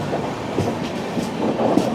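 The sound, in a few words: passenger train running on rails, Jan Shatabdi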